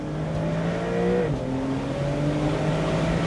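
A 2025 Porsche 911 S Cabriolet with an 8-speed dual-clutch automatic in manual paddle mode, its engine droning steadily up close, with a quick dip and pitch change as a gear snaps through mid-pull.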